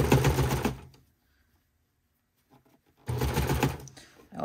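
A serger sewing machine runs a seam in knit fabric for binding, with a fast whirring stitch in two loud bursts separated by a quiet pause of about two seconds.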